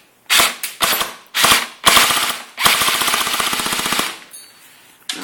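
An airsoft gun fires BBs at a mobile phone in several close, loud bursts of rapid clattering shots, ending in one long rattling volley followed by a brief quiet pause.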